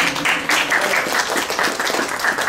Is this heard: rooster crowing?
no